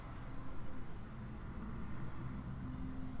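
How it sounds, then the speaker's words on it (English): A bus passes outside, a low, muffled engine rumble heard faintly from indoors, swelling slightly and then holding steady, with no voices. "whole bus coming through."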